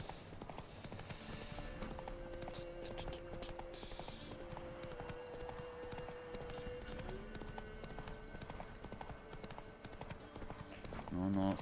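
Hooves of the horse Roach clip-clop steadily in The Witcher video game, a continuous galloping patter at moderate level beneath someone talking throughout.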